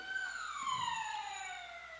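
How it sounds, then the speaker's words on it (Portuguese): An ambulance siren wails in the distance, a faint steady tone sliding slowly downward in pitch as it passes, heard alone without talk. "Uma ambulância, tomara que Deus ajude"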